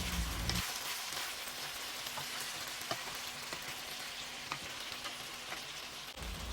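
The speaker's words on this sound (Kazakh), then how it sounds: "Бұрышты да дәл солай 2-3 минут қуырамыз." Quiet, continuous sizzling of bell pepper frying in a pan, with occasional small pops and crackles over the steady hiss.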